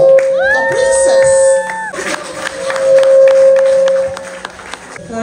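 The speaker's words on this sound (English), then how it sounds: "Please can we give a round of applause for the princess?" Guests at a surprise 50th birthday party clap and cheer, a burst of applause and whoops rising over sustained music tones, with voices mixed into the crowd noise.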